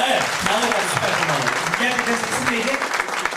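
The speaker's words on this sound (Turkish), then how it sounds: "Alkışlar." An audience applauds at a talk about listening to children, a dense, steady patter of many hands filling the whole stretch, with voices speaking over it.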